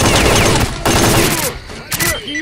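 Heavy gunfire in S.T.A.L.K.E.R. Clear Sky: loud, rapid overlapping bursts of shots, briefly broken by gaps, with voices mixed in.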